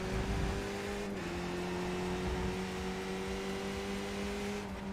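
Engine noise of rival cars in the RaceRoom racing video game: a steady, continuous motor drone with a slight pitch dip early on, holding at an even loudness throughout with no talking.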